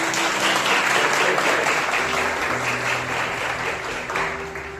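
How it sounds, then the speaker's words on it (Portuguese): A church congregation claps together at a service, a dense wash of applause that stays steady and fairly loud throughout, then eases off slightly near the end. "Uma salva de palmas."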